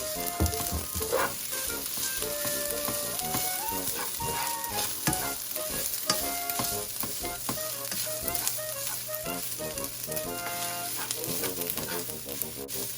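Garlic fried rice for a Filipino breakfast fries in a pan with a dense, continuous sizzle and scraping stir noises, while background music with melodic tones plays over it.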